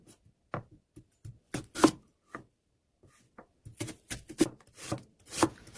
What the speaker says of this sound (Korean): 무는 최대한 얄팍하게 썰어주세요.